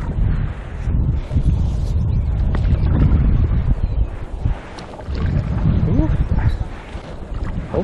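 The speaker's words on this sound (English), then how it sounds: "Here come the Pine Island Rapids." A paddleboard runs through the Pine Island Rapids on the Missouri River in Montana. Rushing water sloshes and splashes close by, mixed with heavy wind buffeting on the microphone.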